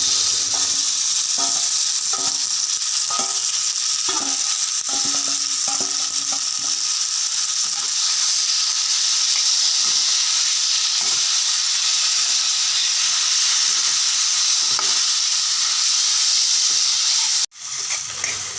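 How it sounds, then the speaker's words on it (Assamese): Taro and potato stir-fried with spices in a pan give a loud, continuous sizzle, with a run of rhythmic stirring scrapes early on and a sharp knock near the end. "মছলাবোৰ ভালদৰে ভাজি লোৱাৰ পিছত ইয়াত মই কচু আৰু আলু মিহলাই দিছোঁ"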